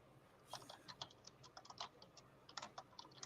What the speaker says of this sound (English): Can everyone hear my keyboard clicking?